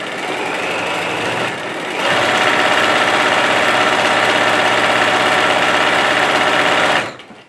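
A sewing machine stitches fabric with a close, steady mechanical whir, first briefly at a lower pace, then faster and louder for several seconds before stopping abruptly.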